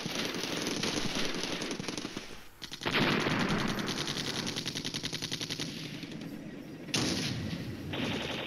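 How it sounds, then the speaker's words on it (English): Tank gunfire in the Flashpoint Campaigns wargame: rapid, loud bursts of automatic fire rattle for several seconds, broken by brief pauses, with no talking. "Still getting shot at by another enemy tank in the woods"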